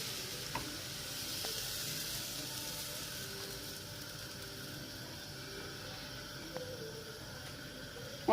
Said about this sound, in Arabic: غادي نحطوه في المقله وغنمشيو في المقله تاعنا